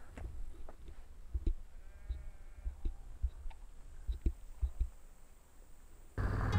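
Sheep bleat faintly at a distance in an open mountain valley grazed by horses and yaks, with a few short wavering calls over scattered clicks and knocks, and a sudden loud rush at the end.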